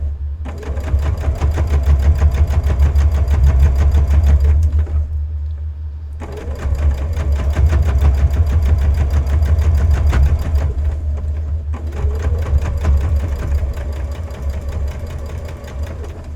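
Sewing machine stitching black bear place mats, a loud steady mechanical whir running in three long bursts with short pauses between them, no talking.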